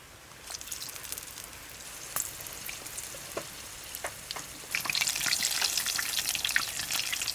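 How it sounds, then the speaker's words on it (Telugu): Green chilli bajji coated in gram flour batter crackle and sizzle steadily in hot deep-frying oil, the bubbling growing louder and denser partway through with scattered sharp pops. "వేడిగా బజ్జీలు వేసేసుకుందాం."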